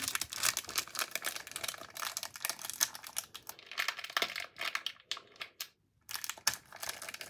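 A crinkly plastic candy wrapper torn open and crumpled by hand, close up, in a dense run of sharp crackles with a brief pause before more rustling.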